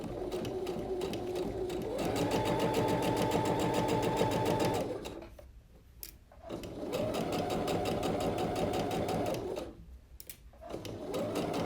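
A sewing machine stitches fabric in two long steady runs, its needle chattering in a fast even rhythm, each run ending in a brief pause before the motor starts up again; close and loud, with no talking.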